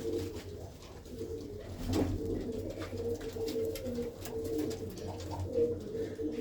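Pigeons kept by a fancier coo steadily in their loft, several soft, overlapping throaty calls rolling on without pause at close range, with no voices.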